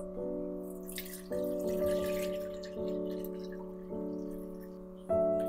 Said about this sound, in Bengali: সবার প্রথমে আমি ভাতটা বসানোর জন্য কড়াতে জল দিয়ে দেব।